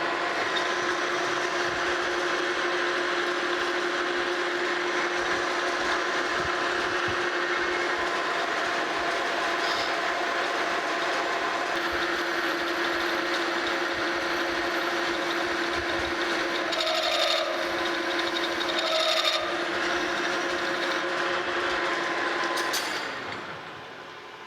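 A metal lathe turning a new arbor for a General Model 350 table saw gives a continuous close mechanical whir with a steady tonal whine, as a light cut of about fifty thousandths runs, before the machine winds down near the end.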